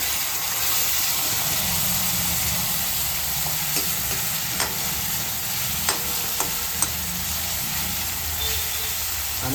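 Chopped tomatoes added to softened onions sizzle and hiss in a frying pan while cooking a Kathiyawadi-style vagharelo rotlo, a steady close frying crackle with a few sharp spatula taps.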